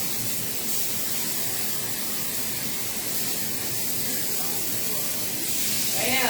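Meat sears in a grill pan in a home kitchen, giving a steady, loud sizzling hiss that holds without letup and swells slightly at the end.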